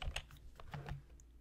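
Computer keyboard typing in an office setting while sketching a floor plan, a quick run of clustered keystrokes and clicks, close and fairly quiet, with no voices.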